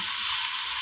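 Beef pieces frying in hot oil for a kaldereta beef stew, giving a dense, continuous hiss and crackle, close and steady, with no voices.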